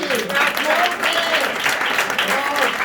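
Brief burst of studio audience applause for a woman named Geni, loud clapping under a lively voice that rises and falls over it.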